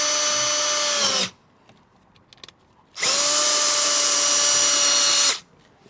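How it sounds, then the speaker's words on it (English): A power drill whines loudly in two bursts while drilling a hole in a 2021 Hyundai, about a second and two and a half seconds long, separated by a quiet pause with faint clicks. "So I'll go ahead and make our first drill hole."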